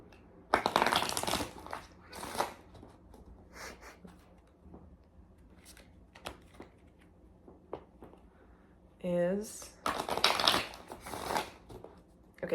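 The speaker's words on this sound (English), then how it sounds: "I'm being asked to shuffle this now." Cards being shuffled up close in several quick riffling bursts, with pauses of quieter handling in between and a short bright bridge-like flutter near the end.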